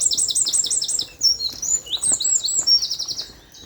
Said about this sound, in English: Listen to them birds.